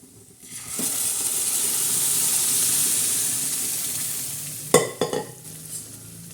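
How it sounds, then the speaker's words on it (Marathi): Tur and moong dal poured into a hot, sizzling tadka tempering in a pan, with a sustained loud frying hiss followed by a few sharp stirring clatters near the end; no talking. "तडका बसलेला आहे याला चांगला असा मस्त असा हे बघा आता आपण याच्यात डाळ सोडणार आहोत"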